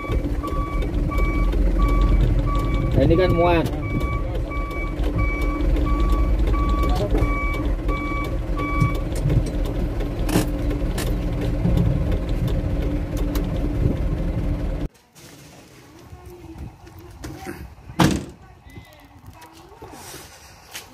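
A Mitsubishi Canter truck backs up on a hillside road, its reversing beeper sounding in a steady repeating pattern over engine rumble, with people talking nearby before the engine noise drops away.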